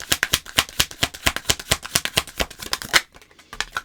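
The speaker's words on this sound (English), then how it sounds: "Let's pick some cards for the actual reading." Tarot cards riffle and snap in a quick, rapid run of crisp close-up shuffles that stop abruptly, followed by a single soft card flick.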